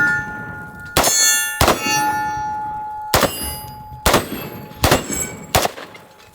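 Shots from a CMMG Dissent 5.7x28mm rifle strike metal targets, producing six sharp clanging rings at uneven intervals, each followed by a lingering metallic ring-out over a faint hum.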